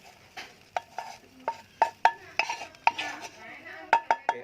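Balinese bumbu spice paste being stirred in a pan for sayur urap, with a series of sharp metallic clinks and scrapes of the utensil against the pan at an irregular rhythm, close and quiet.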